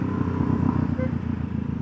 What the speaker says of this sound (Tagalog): Overtake tayo dito, napakaingay ng tambutso.